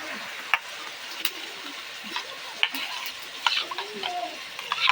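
Spoon mixing chili powder into a paste for chicken curry: scattered soft scraping and clinks in an uneven rhythm, fairly close, with a light sizzle-like hiss in the background and no talk.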